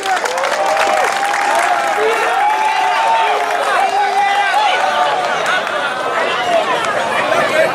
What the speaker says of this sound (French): Beaucoup d'acclamations pour ce grand homme